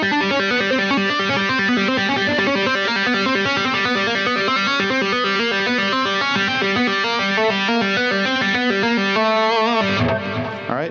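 A distorted electric guitar plays a fast chromatic exercise, a steady run of evenly spaced picked notes climbing and shifting in a clear repeating pattern, loud and alone, ending with a brief pause and a final ringing note.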